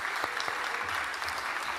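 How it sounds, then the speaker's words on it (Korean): Church congregation applauds in thanks and encouragement for youth ministry pastors and teachers during a Sunday service, a steady wash of many hands clapping at moderate level for about two seconds. "우리 위해서 감사와 격려의 박수 한번."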